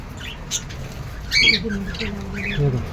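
Several sharp, shrill bird squawks from lovebirds burst out intermittently over a noisy background, with the loudest calls in the middle and near the end.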